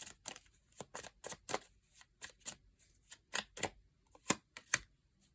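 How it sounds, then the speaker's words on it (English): Tarot cards are drawn and shuffled by hand, producing a series of sharp, separate snaps and flicks in an irregular rhythm, close and crisp against near silence. "Let's get a couple more cards."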